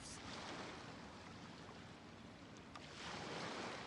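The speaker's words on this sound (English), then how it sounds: "sound of the ocean waves" Ocean waves in the video game Genshin Impact wash in as a soft, continuous surf hiss that swells near the end, faint and steady with a light windy texture and no voices.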